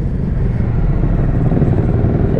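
A Triumph Street Twin 2019 motorcycle ridden through an old town, its engine a loud, close, steady low throb with a dense pulsing rumble throughout.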